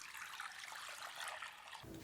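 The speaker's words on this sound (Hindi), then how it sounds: "1 लीटर पानी डालिए।" Water pours steadily into a kadhai on a gas stove, a continuous faint splashing trickle with no voices.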